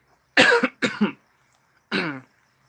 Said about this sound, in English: all of a sudden I'm starting to cough